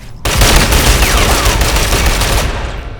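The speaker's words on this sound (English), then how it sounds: "Trying to do some cover fire here." Sustained gunfire in the online shooter Ghost Recon Online, a dense, loud burst of cover fire rattling continuously for about three seconds after a sudden start, with no talking.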